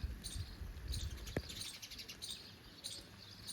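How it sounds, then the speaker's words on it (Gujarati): Faint, intermittent chirps of small birds, sparrow-like, scattered across a quiet outdoor background. "જો અહીંયા ચકલા બેઠા છે"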